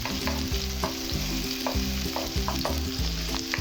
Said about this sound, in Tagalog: Saute natin ang ating white onion.